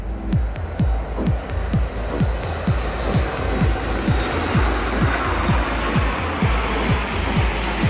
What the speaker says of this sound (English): An incredible Etihad 787 and Al Fursan flyover at the 2023 Abu Dhabi Grand